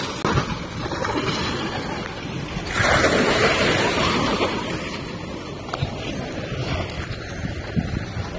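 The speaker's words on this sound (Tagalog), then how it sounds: "Grabe yung alon, umabot dito." Ocean waves surging up a beach at high tide in Zambales, a steady broadband wash with a swell of louder surf midway, mixed with wind noise on the microphone.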